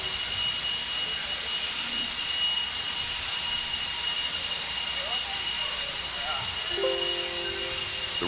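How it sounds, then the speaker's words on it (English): Leaf blowers clearing debris from an outdoor RC buggy raceway give a steady, broad hissing whoosh that holds at an even level from start to end. A brief tonal whine enters near the end. "gonna grab those blowers. They're blowing off your areas"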